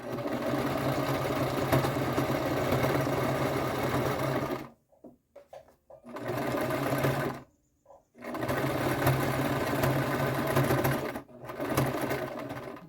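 A sewing machine stitches a pillow made from thick drying mats, running loud and steady in long bursts that stop briefly for repositioning before starting again.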